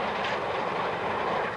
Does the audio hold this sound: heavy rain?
no